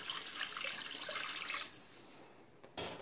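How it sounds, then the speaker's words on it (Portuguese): A small amount of water is poured into a cooking pan of sauce for stuffed zucchini, a close splashing stream that stops after about a second and a half, followed by a brief clatter. "Vou pôr um pouquinho de água."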